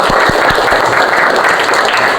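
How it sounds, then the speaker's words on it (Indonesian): A group claps loudly and continuously at a Islamic religious education teacher training session at UIN Sultan Maulana Hasanuddin Banten, with a few sharp low thumps early on under the close, dense applause. "Tepuk tangan buat semuanya."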